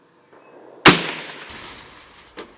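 A single sharp, loud rifle shot from a short-barrel JAKL 12.5 chambered in .308 at a long-range outdoor target session, followed by a long decaying echo and then a fainter distant impact or report about a second and a half later.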